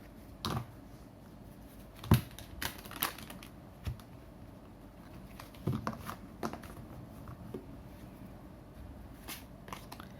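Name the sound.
shuffling a tarot card deck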